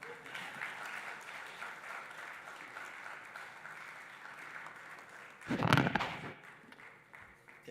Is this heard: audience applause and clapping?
yes